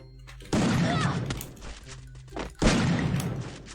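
A shotgun fires twice in the Free Fire mobile game, each blast a loud, sharp burst with a rumbling tail, about two seconds apart, with no voices over it.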